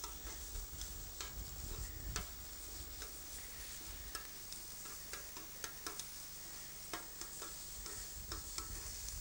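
Prawns fry in a pan for a potato and prawn salad, giving a continuous crackling sizzle with scattered sharp pops and ticks, close and fairly even in level, with no voices.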